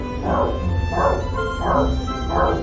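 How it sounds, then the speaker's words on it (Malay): Four evenly spaced, bark-like yelps from a cat, close by, each a short tonal burst over a faint steady hum. "depa juga boleh buat bunyi seakan-akan anjing menyalak"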